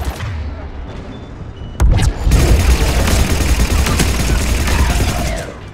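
Gunfire from a scoped pistol and surrounding weapons in the video game Mass Effect 3 during the siege of Thessia, a sharp shot followed by a sustained, loud fusillade of rapid blasts and booms.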